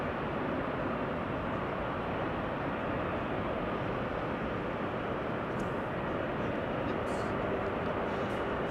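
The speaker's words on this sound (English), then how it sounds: "Finnair A350 rolling out on center." Finnair Airbus A350 airliner rolling out on the center runway at Amsterdam Schiphol after arriving from Helsinki, a steady broadband roar of engines and rushing air holding constant for the whole stretch.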